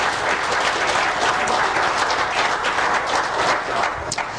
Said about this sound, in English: Let's go ahead and give them a round of applause this evening.